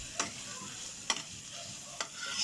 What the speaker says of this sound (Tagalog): Nagluluto kami ng sisig puso